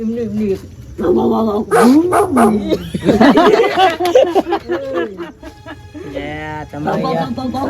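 A voice imitates a dog, producing a string of loud barks, yips and whimpering whines in quick bursts, with people talking in between during a Gujarati comedy scene.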